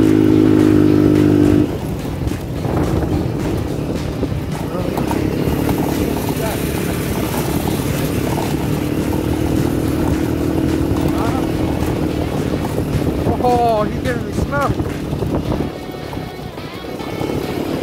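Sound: moped engine riding on trails

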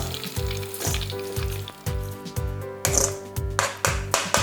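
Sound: frying coriander and kaffir lime leaves in hot oil

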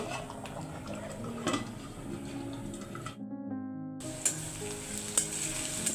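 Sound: tempering bottle gourd lentil dal in hot oil

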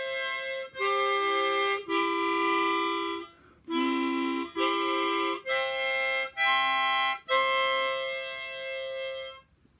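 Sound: beginner's first sound blown on a chromatic harmonica

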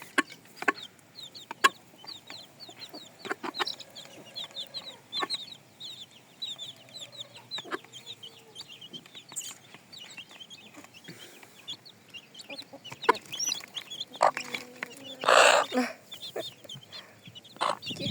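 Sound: chickens clucking

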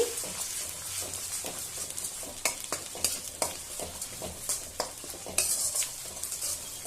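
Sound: ginger garlic paste frying and being stirred for egg pickle

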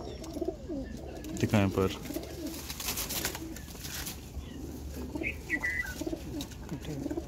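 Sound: pigeons cooing

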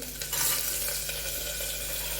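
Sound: vegetables added to hot tempering oil

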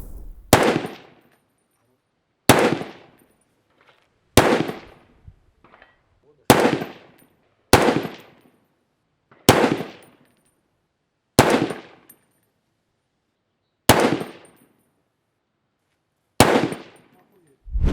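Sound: semi-automatic rifle gunshots

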